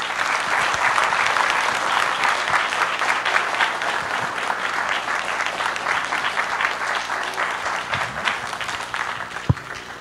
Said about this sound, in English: So I'd like to give them a final round of applause.